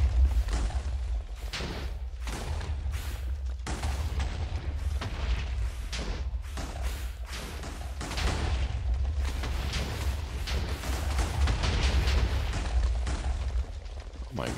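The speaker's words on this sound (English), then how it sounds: "Just the explosions I keep hearing." Booming explosions in a Minecraft modpack, Material Energy, with repeated bursts and rumbling blasts going off continuously under a dense low-end roar, loud and overlapping throughout.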